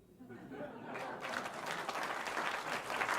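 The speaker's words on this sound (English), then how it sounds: "The applause break for the mediocre joke." Audience applause after a joke at a roast, starting with a brief voice then swelling into loud, dense clapping from a large crowd with some chatter, building toward the end.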